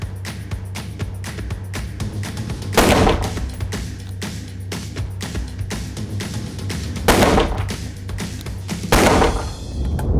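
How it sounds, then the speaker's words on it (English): Live gunfire at moving targets 30 meters downrange at a shooting range: a rapid string of sharp shots, with several especially loud, close reports standing out over a low steady hum. "We're going to put it to live fire, do further instruction with electronic earmuffs on."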